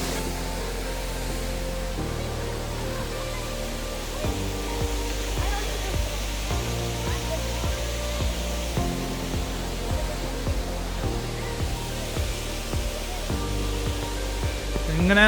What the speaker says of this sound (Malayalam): അടിപൊളിയല്ലേ വെള്ളച്ചാട്ടം?